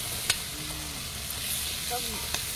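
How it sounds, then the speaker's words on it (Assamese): Fish sizzle as they fry briefly in a pan, a steady close hiss broken by a couple of sharp clicks, with a faint voice in the background. "মাছখিনি অলপ সময় ভাজি ললো তাৰপিছত বেছিকে নেভাজো"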